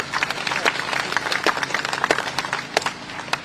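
An audience at a formal Commonwealth Day ceremony applauds the speakers, with brisk, moderately close clapping spread across the crowd for a few seconds.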